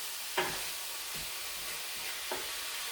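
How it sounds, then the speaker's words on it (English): Lean ground beef fries in a pan with a soft, even hiss. Three or four distinct scraping knocks mark the spatula breaking up the meat. The sound is fairly quiet, with no talking. "Just keep breaking up all the ground beef."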